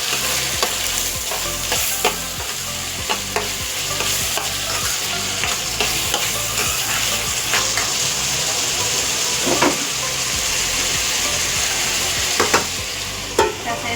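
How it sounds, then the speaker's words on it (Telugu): Tomatoes frying in a pan, a steady close sizzle with an even hiss throughout, broken by occasional scrapes and taps of a spoon as they are stirred. "ఇలా కొంచెం బాగా వేగిన తర్వాత టమాటాలు వేసుకోండి ఫ్రెండ్స్. వేసుకొని బాగా కలిపి"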